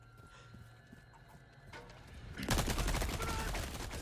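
TMP submachine gun firing in Resident Evil 4 Remake, a loud rapid full-auto burst of clattering shots that starts abruptly after a few quiet seconds and runs to the end, with no talking.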